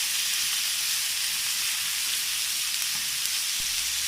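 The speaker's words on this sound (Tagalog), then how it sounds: "let's put in our marinated chicken. I-fry lang po natin ang isang side for 3 minutes" Marinated chicken frying in a pan for soy sauce chicken, a steady close-up sizzle with a bright hiss and no talking.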